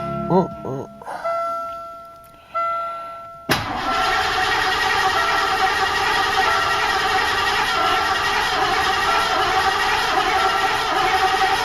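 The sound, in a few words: 1986 Mercury Grand Marquis engine cranking and starting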